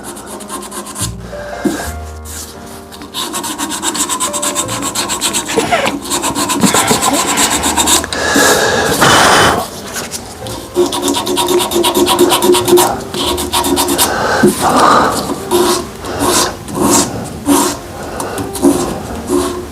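Sandpaper rubs against a spinning wood burl and epoxy resin blank on a lathe, a loud, close, continuous scratchy rasp that swells and fades as the paper moves along the turning piece.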